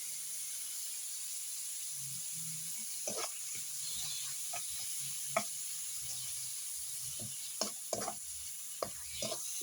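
Shrimp paste sautéing in a pan makes a faint, steady sizzle, with scattered soft clicks and scrapes from stirring and no talking.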